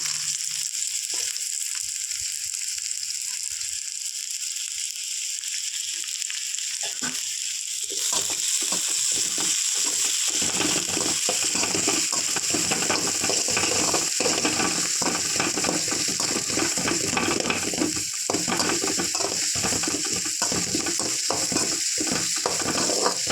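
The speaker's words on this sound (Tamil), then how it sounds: "ஆயில் இப்போ சூடாகிடுச்சு இப்போ நம்ம இதில் வந்து கட் பண்ணி வச்சுருக்க வெங்காயத்தை ஆட் பண்ணியிருக்கோம்" Two large chopped onions hit hot oil in a pan, starting as a quieter hiss that swells into a loud, dense sizzle with rapid crackling and clicking, close and continuous, no talk.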